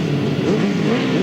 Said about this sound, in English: The revs rise, they're under starters' orders.